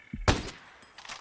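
Gunfire from a video game shootout targets a turret, a couple of sharp, punchy shots with a thudding impact, heard at moderate loudness in a short burst.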